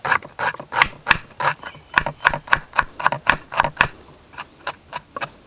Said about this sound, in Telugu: క్యారెట్, క్యాబేజీ ముక్కలు కూడా సన్నగా కోసుకుని పక్కన పెట్టుకోవాలి